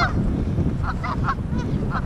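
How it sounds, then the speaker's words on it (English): Several geese honk in short, nasal calls by a lake, a few at a time at moderate distance, over a steady outdoor background rumble. "Can see all the goose couples out here."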